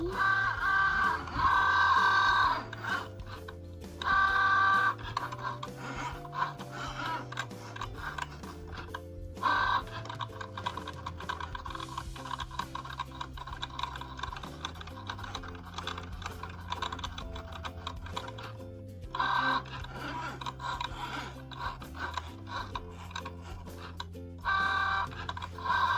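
A Cricut Joy cutting machine cuts without a mat, its motors buzzing and whirring in shifting tones with rapid clicking and short pauses, steady and close for a long stretch.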